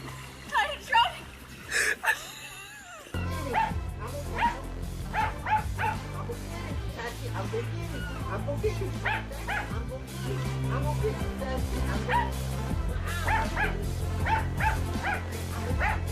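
A dog by a pool barks and yips several times, then whimpers, while excited voices call out over the top and steady background music plays throughout.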